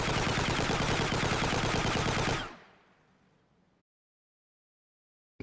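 A rifle in an Unreal Engine 5 weapon recoil demo fires in a sustained rapid automatic burst for over two seconds. A short tail decays after it, then silence, then a brief click right at the end.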